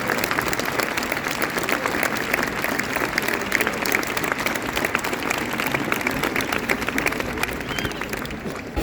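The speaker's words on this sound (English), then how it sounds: "See crowd." A large crowd at a Spanish Easter procession claps steadily, sustained and dense, with a busy murmur of voices blended underneath and no pause in the applause.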